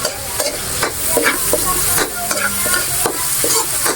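Onions fry in a pan with a steady close sizzle, while a spoon or spatula scrapes and stirs in repeated strokes about every half second.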